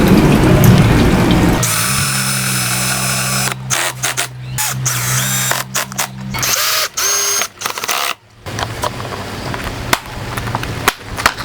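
A power screwdriver drives screws into the top cover of a portable solar power bank, with several loud whirring bursts broken by short pauses and handling clicks at close range.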